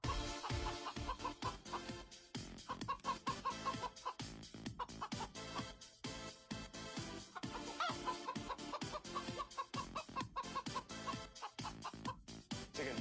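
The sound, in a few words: chickens clucking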